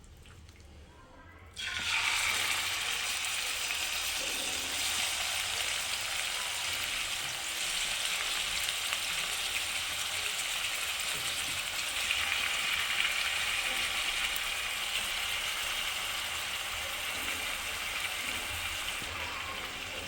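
Chicken pieces for a curry sizzle and crackle loudly in hot oil in a pan, a dense steady hiss that bursts in abruptly after a quiet moment and continues close-up without a break.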